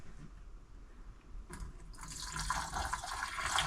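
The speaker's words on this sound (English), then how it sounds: "I like to come back through and just pour a little bit down into the sink." Antifreeze poured down an RV sink drain during winterization, a faint trickle that swells into a steadier gurgling pour over the last couple of seconds, heard close and alone.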